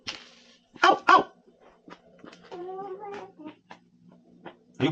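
A puppy gives a couple of sharp, close barks, followed by a drawn-out whine and a few softer yips in a quiet room.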